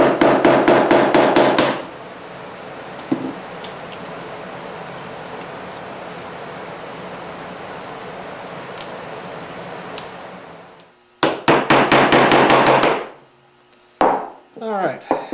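A chisel is struck with a mallet to chop curly maple down to a scribe line, with rapid bursts of sharp, loud blows at the start and near the end and a quieter stretch of low rustle between.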